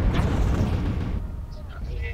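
Rapid gunfire and booming blasts from a video game battle, loud and sustained, with a player's voice talking over the shots.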